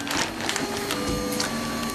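A BFB 3000 3D printer with a heated print bed and PLA filament runs close by, making a steady mechanical whir with faint stepper-motor tones and small rhythmic clicks.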